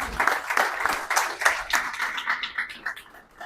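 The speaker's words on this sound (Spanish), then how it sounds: "Un aplauso para él, por favor." Audience at a Spanish book presentation claps in a dense burst of applause that is strong at first and thins out toward the end.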